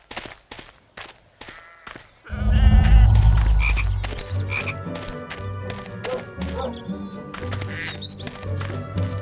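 Chocolate frog from the Harry Potter 2 video game, heard as a loud burst of game croaks and low rumbling thumps kicking in after a quiet start, continuing over busy game sound effects.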